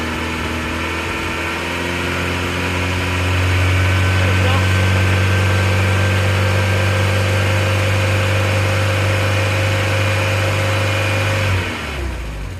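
An old Volkswagen engine, just revived, runs steadily at a loud, even idle with a strong low drone that holds through most of the stretch before cutting out near the end.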